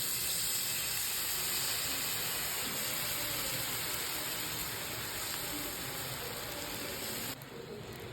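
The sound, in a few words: onion rava dosa batter poured onto hot pan, sizzling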